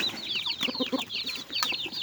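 Native Thai chickens raised as fighting cocks cluck in a steady, busy run of short calls, several birds close by with no talk over them.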